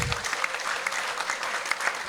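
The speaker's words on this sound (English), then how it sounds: "Yes, please, applause." An audience at a forum on Ukraine's role in world security applauds Prime Minister Boris Johnson, a short, even burst of crowd clapping with no breaks.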